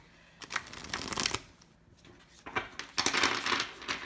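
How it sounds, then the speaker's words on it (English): Rapid riffling bursts of tarot cards being shuffled, two clusters of crisp flutters separated by a brief pause, close and clear with no talking. "I've already given the cards a bit of a shuffle already"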